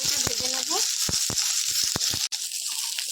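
Cauliflower florets and potato pieces frying in hot oil give a constant, loud hissing sizzle, with a few brief voice sounds near the start.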